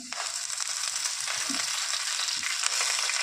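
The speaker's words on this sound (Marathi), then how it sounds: "ही भाजी आता आपण त्याच्यात टाकूया." Green amaranth leaves tipped into a hot oiled pan, a loud close continuous sizzle with rustling stirs and a few soft scrapes.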